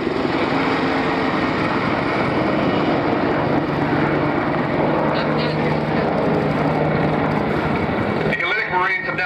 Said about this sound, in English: It is one of the world's most widely produced helicopters and is still used by both the Hellenic and U.S. military.